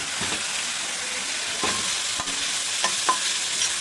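Chopped beans hit hot refined oil in a wok and fry with a steady loud sizzle, broken by a few scraping stirs close by, and nobody speaks.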